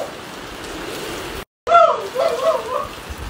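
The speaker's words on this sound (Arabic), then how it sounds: "قد جانا المطر" Steady rain patters outdoors as a broadband hiss, briefly cutting out, then returning with people talking over it.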